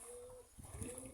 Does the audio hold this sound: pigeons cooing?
yes